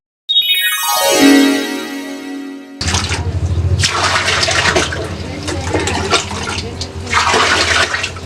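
Water from a tap gushes into a container at close range, starting with a rising filling tone as the vessel fills, then continuing as a loud, steady, splashing rush.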